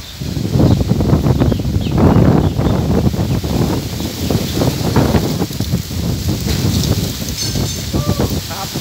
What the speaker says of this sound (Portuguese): Escuta, pessoal, o vento.